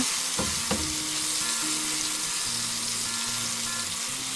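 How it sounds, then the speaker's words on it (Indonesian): Spices sauté over a low flame with a steady, close frying hiss, and a couple of soft utensil knocks come near the start. "Kemudian kita tumis, apinya kecil saja ya. Kita tumis sampai dia berbau harum ya."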